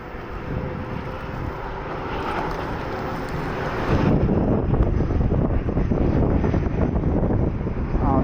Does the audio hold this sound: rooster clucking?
no